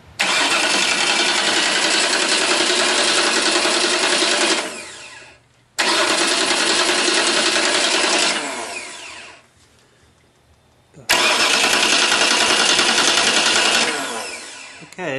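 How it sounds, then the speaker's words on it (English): The starter on a Ford Cobra engine spins the motor over in three long, loud bursts of whirring cranking, each separated by a short pause, heard up close without any speech. "we have our starter wired up, and we're just going to spin test the engine to make sure the starter engagement is perfect"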